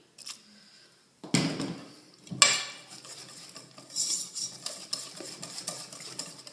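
Seed tape paste being stirred with a spoon in a bowl, giving a few scraping, clinking strokes that come in short bursts with quiet gaps between them, close and fairly soft.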